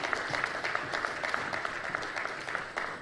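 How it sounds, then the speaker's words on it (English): Steady applause from an audience at the 16th GUBA Awards ceremony, dense and continuous clapping filling the room at moderate level without a break. "Please give them a round of applause"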